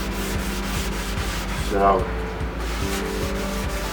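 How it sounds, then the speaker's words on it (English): A sanding sponge rubbing over a large wooden drum shell, a steady scratchy back-and-forth scraping in close rhythmic strokes, with someone speaking over it briefly. "these sanding sponges really are very"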